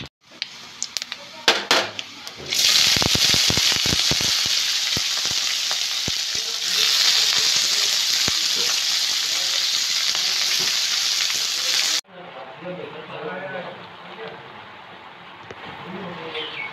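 Vegetables frying in oil with bay leaf, salt and panch phoron for a vegetarian Bishu festival dish: a loud, steady sizzle that bursts in after a few clatters, then drops to a softer frying crackle near the end.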